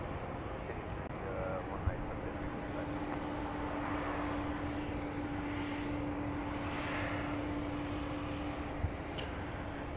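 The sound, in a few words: Boeing 737-700 airliner arriving from Tucson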